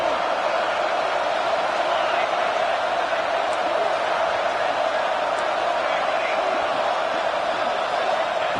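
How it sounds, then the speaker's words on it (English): Football stadium crowd roaring steadily during a defensive red zone stand, a dense continuous wall of cheering and noise that holds at the same loud level throughout. "This crowd is trying to inspire this defense to make a big red zone stop."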